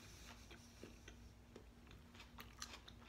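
Crunching bites into a large black bean burger, heard up close against a steady background hum, with no speech.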